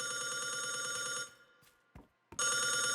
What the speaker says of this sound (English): Excuse me, the phone is ringing.